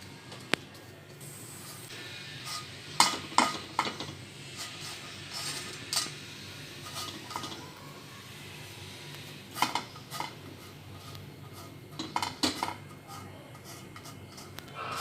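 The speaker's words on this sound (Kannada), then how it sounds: "ಇದಕ್ಕೆ ಸ್ವಲ್ಪ ಎಣ್ಣೆ ಸವರಿಬಿಟ್ಟು ಒಂದು ಪಾನಲ್ಲಿ ನಾವು ಬಿಸಿ ಮಾಡ್ಕೊಳ್ಳೋಣ." Papad brushed with oil heats in a pan, close clinks and scrapes of utensil against metal coming in irregular bursts over a low background hiss, with no talking.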